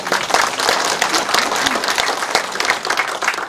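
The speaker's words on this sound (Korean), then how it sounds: "우리 권선과장 힘내라고 박수 한번" Loud, dense clapping fills a town meeting hall in Hobeop-myeon, Icheon, as residents applaud a district official. The close, continuous applause runs for about three and a half seconds without letting up.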